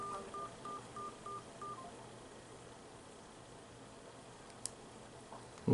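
A Samsung Galaxy S7 Edge stock dialer keypad sounds a quick run of short, faint touch-tone beeps in even succession, followed by quiet room tone and a small click.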